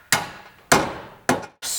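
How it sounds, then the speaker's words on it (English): A sledgehammer strikes a shock bolt to drive it out of a car's control arm during a coilover installation on a Mitsubishi Evo, three loud metallic blows at an even pace, each ringing briefly before fading. "we will just kind of hammer it out of the arm"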